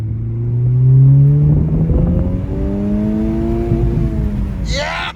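A Honda Civic Type R engine revving up nearby, a loud rising then sustained engine drone with a brief higher whine at the end.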